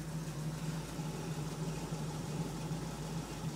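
A Dodge Ramcharger's 440 engine, salvaged from a motorhome, idles steadily with a low, even rumble and no other sounds.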